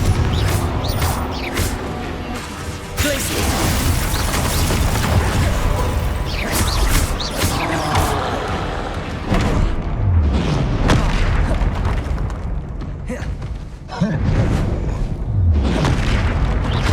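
Repeated Confringo fire spells explode in Hogwarts Legacy, a dense run of loud booms and crashing blasts layered over a constant rumbling game soundscape, with sharp bursts recurring across the whole stretch.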